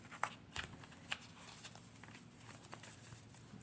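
Tarot cards shuffled by hand at close range, with a few soft riffling bursts and taps over a low room hum, no talking.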